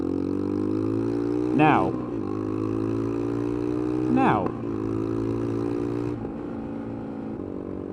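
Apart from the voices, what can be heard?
motorcycle engine revving through gears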